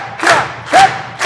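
An audience at a seminar-style event in Ethiopia cheers and applauds in two loud bursts, with a brief lull between them.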